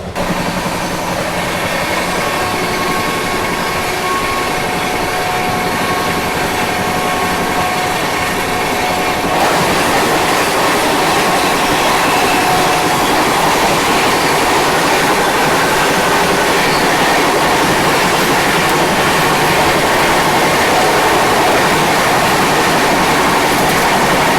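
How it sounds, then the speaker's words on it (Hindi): Pushpak Express running at around 120-130 km/h, a loud continuous roar of wheels and rushing air heard from on board, growing harsher partway through and steady to the end. "ट्रेन बिल्कुल अच्छी रफ्तार में चल रही थी, 120-130 कंटिन्यूस चल रही थी।"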